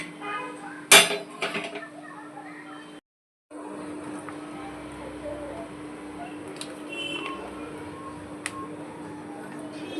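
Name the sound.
placing a tawa griddle on the stove for bhakri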